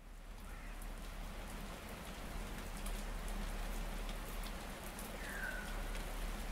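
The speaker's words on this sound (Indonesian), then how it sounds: "Gerimis mulai mendarat di permukaan Batu Nungku" Drizzle patters steadily onto the ground of Batu Nungku, a dry village, forming a soft, even wash of rain that stays constant throughout with no voices.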